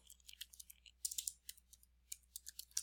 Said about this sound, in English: like as an example, Ray Kilmer, I would just start typing in